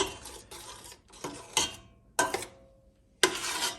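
A spoon scrapes and clinks against a pot while stirring powdered cheese sauce with butter for tuna mac, in five or six short, close bursts separated by brief pauses.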